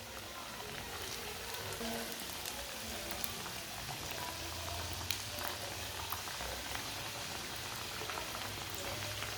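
Three samosas frying in oil over low heat, a steady soft bubbling sizzle that holds evenly throughout with no talk.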